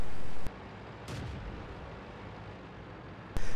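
A tank's main gun fires in a video game, with heavy, booming blasts at the start and the end and a duller explosive thud between them, all loud and close over a dense rumbling background.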